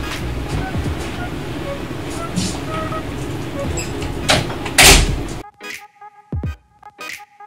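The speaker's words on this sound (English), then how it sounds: "You gonna open the door for me or what?" A door slides open, a loud rushing whoosh with a sharp clatter near the end, set against busy background noise and then a sudden quieter room with a few thumps and voices.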